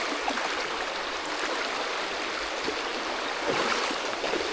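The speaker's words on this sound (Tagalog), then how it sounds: "Pang-6 na ilog na yung tatawirin namin" A jungle river stream near El Nido, Palawan, flows in a constant broadband rush and gurgle, steady and fairly close, with no speech.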